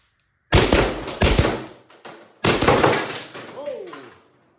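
A Valken M17 paintball marker on a full-auto fun switch at 800 PSI fires two loud rapid bursts of sharp popping shots, separated by a short pause, then trailing off with a faint whistling tail and silence.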